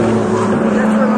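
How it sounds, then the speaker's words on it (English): A fast 420-horsepower car, likely a BMW in a race, roars past close by with a loud, sustained engine drone and steady pitch over a brief moment. "It's a fast car."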